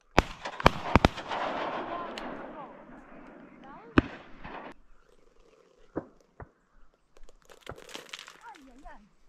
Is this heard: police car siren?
no